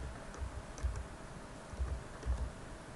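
Keys clack softly on a computer keyboard as a search term is typed, faint, light keystrokes arriving in small irregular clusters over a low background hum, with no talking.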